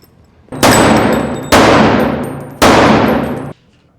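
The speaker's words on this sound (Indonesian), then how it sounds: "mereka berdua saling adu skill menembak" Three heavy gunshots from a film's shooting-range scene, each a loud, sharp blast with a long ringing tail, spaced about a second apart.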